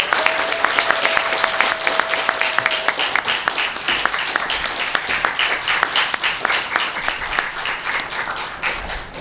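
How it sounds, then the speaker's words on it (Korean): An audience in a museum auditorium gives warm applause to welcome a lecturer, a dense, steady wash of many hands clapping throughout, with a brief tone sounding at the start. "국민배우이신 이순재 선생님을 뜨거운 박수로 모시겠습니다"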